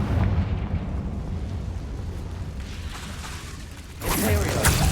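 Confringo blasting spell explodes in the Hogwarts Legacy video game, a sudden loud burst near the end rising over a steady rumbling low background of combat noise.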